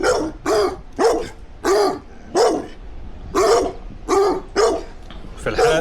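Dogs outside bark in a loud, steady series of about ten sharp barks spaced roughly half a second apart, close by, with no voices over them.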